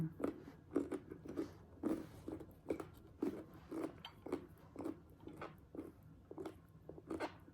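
Close, quiet crunchy bites and wet chewing of sour mango repeat in a steady rhythm for several seconds, with no talking.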